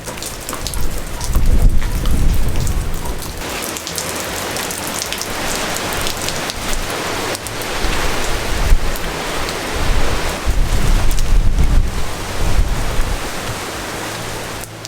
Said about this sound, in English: it was raining the entire day